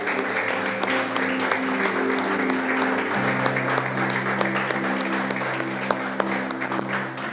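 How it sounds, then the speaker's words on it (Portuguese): A church congregation claps steadily throughout. The dense applause stays even and continuous over sustained chords played underneath. "Você pode aplaudir ao nosso Senhor,"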